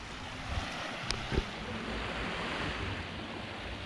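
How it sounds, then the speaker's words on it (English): Surf washes steadily onto Maenam Beach on Koh Samui, Thailand: a continuous broadband rush of waves with wind noise on the microphone and a few soft thumps, with no talk. "So that is Menam Beach."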